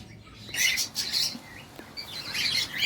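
Bright, high-pitched cockatiel chirps at a breeding farm come in two busy bursts with a short lull between, fairly close, with no voices.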